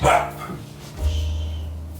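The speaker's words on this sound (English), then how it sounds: "sorry, that's my dog" A dog barks sharply a couple of times at the start, followed by a lower sustained hum in the background.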